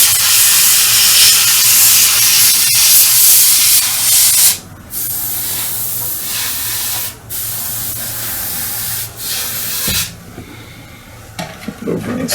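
Aerosol or airbrush paint mist sprayed onto a StuG III scale model, a loud close hiss in long bursts broken by brief pauses, then fading into quieter short puffs near the end.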